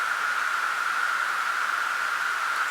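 Resonant noise oscillator on a Groove Rider 2 built-in synth, a steady filtered hiss with a strong resonant band, holding at constant loudness alone throughout.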